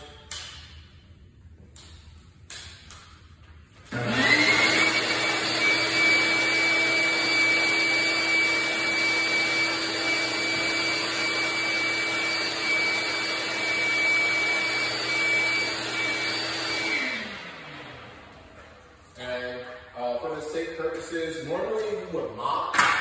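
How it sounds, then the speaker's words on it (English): A shop vac drones loudly and steadily for about thirteen seconds while picking up swept dust from a dance studio floor, starting abruptly and winding down, with quieter handling noises and talk before and after. "We're gonna suck it up with the shop vac."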